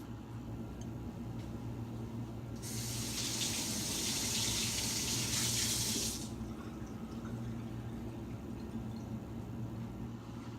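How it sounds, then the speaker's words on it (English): Tap water runs into a sink for about three and a half seconds, rinsing out a quarter-cup measuring cup that held oil, with quiet kitchen background before and after. "So we'll need to wash out the 1/4 cup we used for the oil."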